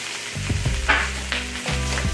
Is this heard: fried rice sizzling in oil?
yes